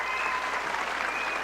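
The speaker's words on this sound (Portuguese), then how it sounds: "a quem eu peço uma salva de palmas" An audience at a formal legislative medal ceremony applauds the honoree, Sabá Reis, in a steady, dense wash of clapping with no distinct individual claps and no speech.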